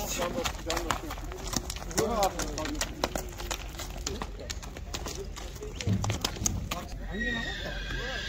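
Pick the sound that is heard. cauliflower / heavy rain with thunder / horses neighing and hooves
horses neighing and hooves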